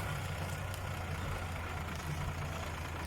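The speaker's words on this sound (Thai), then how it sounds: "กับรถไถฟอร์ด จ็ดแปดสี่ศูนย์หกสูบ" A Ford 7840 six-cylinder tractor with a 24x24 gearbox and air-conditioned cab idles close by, its steady low diesel rumble running unbroken throughout with no talking over it.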